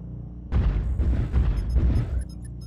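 A medium laser weapon fires in a video game, with heavy booming bursts repeated several times in quick succession, close and loud, without speech.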